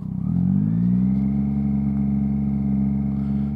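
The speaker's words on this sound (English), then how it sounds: "See, I'm revving that quite loud for you guys" A motorcycle engine held at steady revs while the rider slips the clutch in the friction zone at slow speed, a loud, close, sustained drone with no talking.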